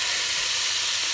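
Potatoes fry in a pan for a short stretch, giving a steady, close, even sizzle and hiss with no voices over it.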